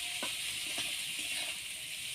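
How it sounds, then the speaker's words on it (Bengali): Cauliflower florets and carrots fry together in hot oil in a home kitchen. A continuous soft, even sizzle hisses throughout, with a few faint taps and clicks mixed in. "ওর মধ্যে আমি ফুলকপিগুলো দিয়ে ভেজে নেব"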